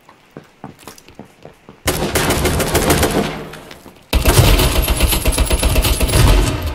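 Shotgun fire in a video game: a few sharp isolated shots, then dense continuous booming bursts of gunfire that swell loud and sustained, with no talk.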